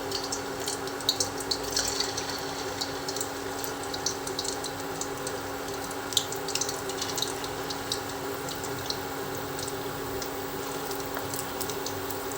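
Chitti chakodi dough pieces deep frying in hot oil make a steady, moderately quiet sizzle full of fine crackles and pops that lasts throughout, with no one speaking.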